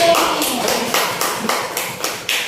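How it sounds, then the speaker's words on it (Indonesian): A small group in a classroom claps for a pupil named Emi. Bursts of hand claps come in a loose, roughly regular rhythm for a couple of seconds, nearby and moderately loud. "Tepuk tangan buat Emi."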